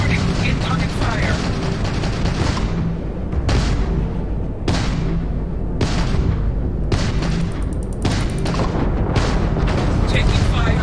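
Heavy gunfire and booming blasts in the Starfield video game, loud repeated bursts and sharp explosive cracks following one another almost continuously, with a synthetic announcer voice in the mix.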